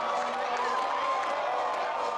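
Home crowd at a Villanova college football game against Delaware, a steady, dense roar of many voices from the stands, continuous and fairly loud without clear peaks.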